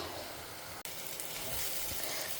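Slices of raw green banana (plantain) sautéing in a pan in a home kitchen, a steady close sizzle and crackle of frying with one brief break, no talk.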